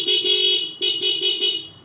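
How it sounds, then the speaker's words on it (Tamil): A loud, close double horn on a customised Honda Hornet motorcycle blares in a rapid series of short honks with a brief gap partway through, its two tones sounding together. "இப்போ டபுள் ஹார்னு போட்டிருக்கோம்"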